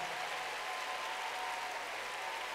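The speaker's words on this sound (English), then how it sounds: "I need you to clap" Steady, dense applause from a church congregation at New Birth Cathedral, a continuous wash of many hands clapping at moderate distance with no letup.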